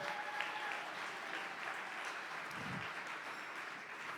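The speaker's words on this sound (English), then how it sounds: "Let's give all 17 people a big round of applause." Steady, moderately faint audience applause at a charity gala rolls on evenly, a room full of hands clapping with no speech over it.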